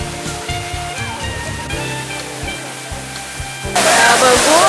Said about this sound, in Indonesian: disambut dengan deburan air terjun yang segar dan indah